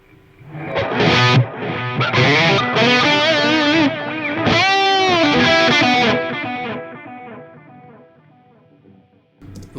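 Heavily distorted electric guitar lead played through the effects loop of a Mesa Mark IV amp with echo, a dense, sustained run of notes whose repeats trail off into a fading tail near the end.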